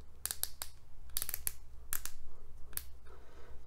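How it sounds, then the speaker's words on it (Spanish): A series of sharp plastic clicks, about seven, from the ratcheting Revoltech joints of a Yamaguchi Deadpool action figure, come in uneven pairs and singles, close and crisp against a quiet background. "ese clic tan satisfactorio es lo que distingue una articulación de Revoltec original"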